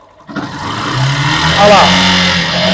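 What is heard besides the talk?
Honda Factor 150 motorcycle engine starting and revving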